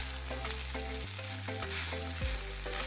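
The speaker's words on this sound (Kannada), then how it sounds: "ನಾನಿಲ್ಲಿ ಮಾತ್ರ ಚೂರು ಖಾರ ಬಿಡಲಿ ಅಂತ ಒಗ್ಗರಣೆಗೆ ಹಾಕ್ಕೊಂಡಿದ್ದೇನೆ." Green chilies sizzling in hot tempering oil in a pan, a steady close crackling fry that runs without a break, with no talk.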